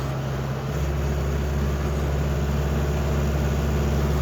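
Tractor engine chugging along steadily in first gear across a wet field during ploughing, a loud, constant low drone with an even throb and no pauses.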